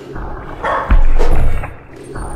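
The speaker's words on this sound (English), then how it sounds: "Dog! A dog!" A dog barks in the Lost in Vivo horror video game, a couple of loud, close barks and yips in quick succession, rising to a peak and then fading.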